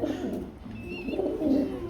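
A racer pigeon of maxi colouring coos softly nearby in short, repeated low calls across the moment, with a faint brief whistle-like tone mixed in and no talk over it.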